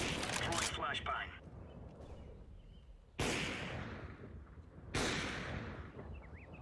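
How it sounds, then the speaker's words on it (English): Counter-Strike: Global Offensive gameplay with a thrown flashbang grenade: sharp bang-like impacts with decaying ringing tails, two hits a couple of seconds apart, following an earlier burst of game noise. "Throwing flashbang."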